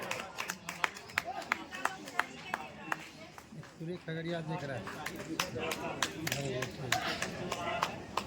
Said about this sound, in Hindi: तो जोरदार ताली हो जाए और इनका रचना की ओर बढ़ते हैं